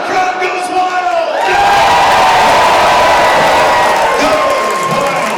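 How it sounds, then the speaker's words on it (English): After a quieter moment, a crowd erupts into loud cheering, whooping and applause that carries on steadily to the end. "And the crowd goes wild."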